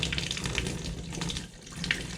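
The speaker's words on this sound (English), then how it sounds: "Obviously all the water's gonna drain out of the tank that's left." Water rushing and gurgling as it drains out of a toilet tank after the fill valve is pulled, a steady close splashing flow with no voices.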